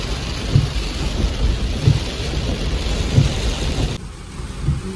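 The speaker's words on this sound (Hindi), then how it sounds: "इतनी तेज बारिश हो रही है ना," Heavy monsoon rain pours steadily near the India–Pakistan border, with low thunder rumbling through it several times in a dense, continuous roar; no one speaks.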